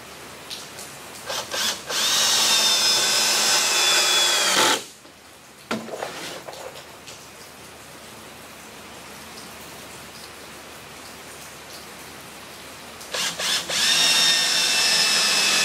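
A power drill drives 1 5/8 inch deck screws into wooden shelves, with two loud whirring bursts at the start and another near the end, separated by a long stretch of quiet room noise and no speech.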